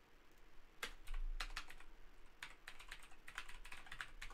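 Quick bursts of keystrokes clatter on a computer keyboard, with irregular clusters of clicks and short pauses, close and fairly quiet with a faint low hum beneath and no talking.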